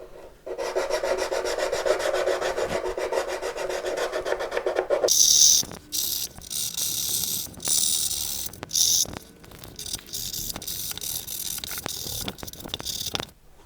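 Close, steady rasping of sandpaper rubbed against the wooden f-holes of a guitar body, first a long continuous stretch, then shorter scratchy strokes with brief pauses.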